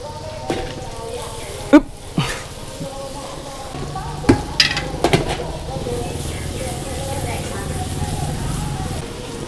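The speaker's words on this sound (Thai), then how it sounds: "เราจะล่อนล่อนไข่ในกระทะแบบนี้ก่อน เพื่อให้ด้านล่างเหลืองกรอบ ขั้นตอนนี้ใช้ไฟแรงได้เลยครับ" Tom yum omelette frying in a wok over high heat, a steady bright sizzle with several sharp scraping clanks of a spatula against the pan, under someone talking.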